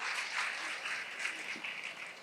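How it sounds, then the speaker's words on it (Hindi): Clapping from a seated audience of daughters-in-law at a religious discourse, a dense, even patter of many hands sustained for a couple of seconds at moderate level, with no speech over it. "मानो बहुएं ताली तो बजा दो"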